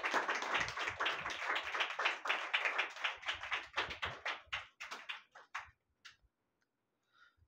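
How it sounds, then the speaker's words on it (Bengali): A small audience claps at an award felicitation for actor Madhab Chattopadhyay at Sunrise Movies, a brisk patter of hand claps that thins out and stops with a few last isolated claps. "করতালির কল্লোল থাকুক"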